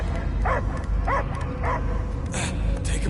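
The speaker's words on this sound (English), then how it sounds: "I hear only barking." A dog barks in the Guardians of the Galaxy video game: three distinct, evenly spaced barks with a whimpering edge, close and clear over a low rumbling background, followed by short bursts of noise.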